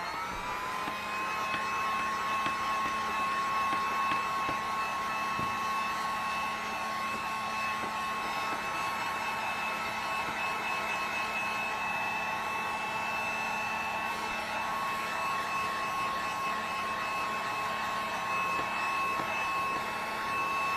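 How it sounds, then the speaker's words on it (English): A heat gun dries ink on collaged deli paper, a loud steady whining blower hum with a constant high tone running unbroken for about twenty seconds, close to the microphone. "I'm going to heat gun that a little bit,"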